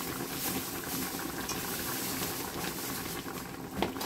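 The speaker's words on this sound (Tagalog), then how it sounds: "Ayan, kumulo na po." Fish soup with vegetables and sour calamansi boiling in a pot, giving a steady, close bubbling hiss that runs evenly throughout with no voices.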